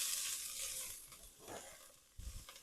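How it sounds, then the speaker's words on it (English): Onions stirred in a pot for smoked BBQ birria, a faint soft sizzle with a few quiet scraping stirs, low and steady with no voices. "Now into the pot we go with our onions. Give that a little stir."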